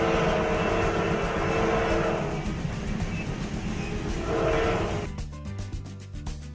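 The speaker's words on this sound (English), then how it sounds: "We travel on the famous transoceanic train from Panama City to Colón" The transoceanic train running from Panama City to Colón gives a loud, continuous rumble of wheels on rails with rising and falling surges, thinning out toward the end.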